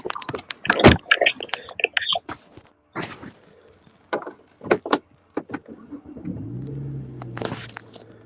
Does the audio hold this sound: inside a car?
yes